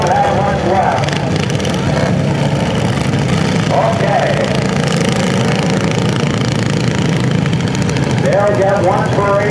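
Racing lawn tractors at Laird International Raceway droning steadily near and loud, engines humming throughout with a brief spoken word and a loudspeaker voice over the rumble.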